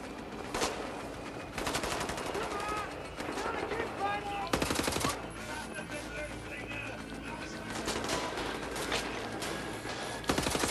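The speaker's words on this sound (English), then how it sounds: "I lay down suppressive fire." Machine gun suppressive fire in the video game Wolfenstein: The New Order, with several loud rapid bursts and scattered gunshots amid game effects and clatter, a player talking over the action.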